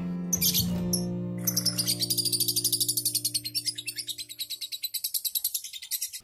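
A lovebird, a Balibu type, calls inside its cage, giving a fast series of sharp, repeated chirps that build into a steady chattering trill, heard close with a low background hum.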